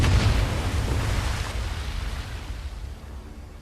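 A single explosion in the World War II video game Medal of Honor VR bursts loudly at once, then rumbles away into a fading, noisy tail over a few seconds.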